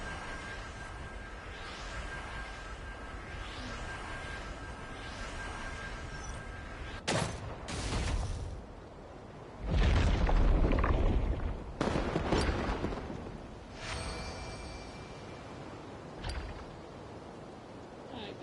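Fireworks bursting in a video game, a few sharp loud cracks and booms spaced apart over a steady noisy background, with a heavier rumbling burst in the middle.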